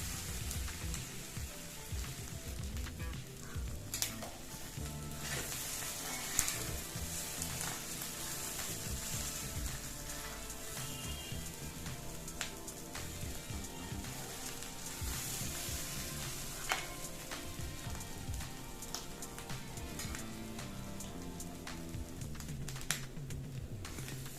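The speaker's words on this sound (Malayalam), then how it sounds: "ഇത് നല്ലതുപോലെ ഇളക്കി യോജിപ്പിച്ച് കൊടുക്കാം." Clam meat thoran sizzling and frying in a pan while being stirred, a steady crackling hiss with scraping stir noises throughout, close and continuous with no talking.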